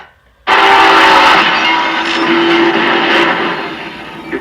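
Sudden loud roar of a train derailing and colliding, a film sound effect that bursts in after near silence and holds as a sustained, grinding rumble with a horn-like tone and metallic clatter, slowly fading.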